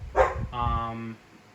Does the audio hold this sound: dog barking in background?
yes